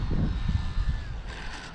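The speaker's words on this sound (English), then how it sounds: "That is the FMS PA 18 1300 millimeter Super Cub." An FMS PA-18 1300mm Super Cub RC airplane drones overhead in high wind, its electric motor whining steadily with a slight pitch drift, moderately distant, over gusty low rumble.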